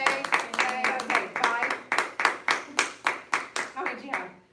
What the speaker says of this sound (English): you'll just have to listen to me clap